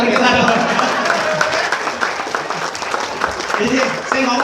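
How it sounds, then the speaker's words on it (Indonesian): An audience at a sharing session on success in the 3i CAR Networks gives the operator a round of applause, a continuous wash of clapping under a voice talking over it. "Kasih tepuk tangan sama operator kita dong."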